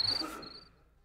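A cricket chirping sound effect played on a Spanish-language morning radio show: a brief, sharp high chirp burst at the start that fades quickly into quiet, with no talk over it.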